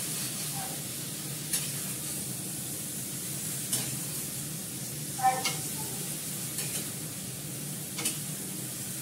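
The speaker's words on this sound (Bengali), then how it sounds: "এটা আমি অনেকক্ষণ ধরে কষাবো, কষাতে কষাতে সেদ্ধ হয়ে যাবে।" A dish being sautéed slowly in a pan, a soft, steady low sizzle with occasional faint clicks of the spatula against the pan every second or two, fairly quiet throughout.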